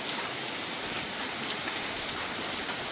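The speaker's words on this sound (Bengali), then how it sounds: "এখনও টানা বৃষ্টি হয়ে যাচ্ছে" Heavy, continuous rain pours down outside a shop during a night and morning of bad weather, a dense, even hiss of drops on surfaces with no pauses and no voices.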